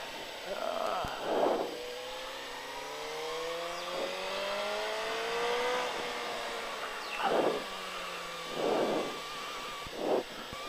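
A motorcycle engine revs and accelerates on a race track circuit, its pitch climbing steadily, with bursts of wind or tire noise breaking through at intervals.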